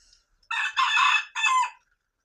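Shamo gamecock roosters crow loudly and close by in two long, strained bursts with a short gap between them, no talk in between.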